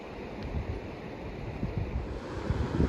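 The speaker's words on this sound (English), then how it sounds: "Very beautiful waterfall." Rushing water of a waterfall on Deep Creek below the colorful Rainbow Bridge on the Pacific Crest Trail, a steady broadband roar with low rumbling surges, fairly close and continuous, with no talking.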